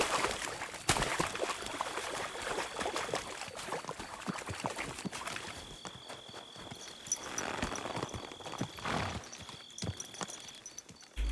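A horse's hooves clip-clop in a video game, a steady run of loud, close hoof strikes with no talk over them.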